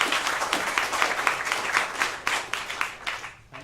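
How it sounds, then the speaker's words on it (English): Applause from a panel-discussion audience, a fairly thin scatter of individual claps rising and falling in small bursts, then fading out at the end. "I think James deserves a round of applause for speaking up"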